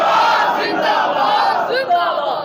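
A large crowd at a religious gathering roars a chanted response to a slogan, a loud, sustained mass of voices lasting a couple of seconds.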